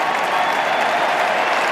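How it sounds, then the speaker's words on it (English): A stadium crowd at an Australian football match between Melbourne and Greater Western Sydney breaks into sustained, dense applause as a player walks out of the tunnel, heard alone and fairly loud. "You hear the round of applause when they see him come out of the tunnel."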